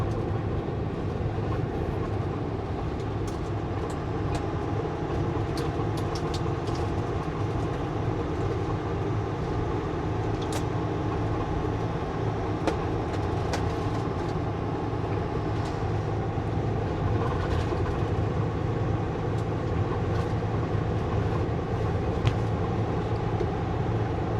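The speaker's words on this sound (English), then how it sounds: "Oh, there's a train coming." A steady low rumble of a train rolling past, continuous and moderately loud, with faint clicks from the rails and no voices.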